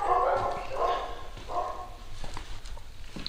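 Dogs bark at night outside a reputedly haunted rural village, several quick yelping barks that settle into faint whimpers and scattered rustling, moderately distant.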